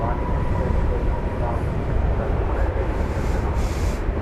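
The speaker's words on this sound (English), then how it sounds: "I believe it's got to clear for takeoff." Jet airliner at Dallas/Fort Worth airport taking off, a steady, loud broadband engine roar with deep low rumble holding throughout, no breaks, captured from a spotting position on the ground.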